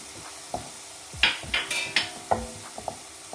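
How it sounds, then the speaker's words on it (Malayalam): Sliced onions and spice powders fry in a pan for a soya chunk and chicken cutlet, with scattered scraping stirs and light clinks of a spoon against the pan over a faint sizzle. "സവാള ലൈറ്റായി, അന്നേരം ഈ പൊടികൾ ഇട്ട് കൊടുക്കണം."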